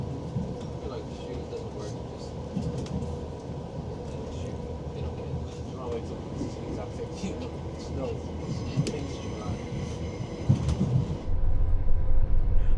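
A train from Sligo rumbles along a single-track line in Ireland, a continuous low rolling drone heard from inside with light rattles and a louder surge near the end.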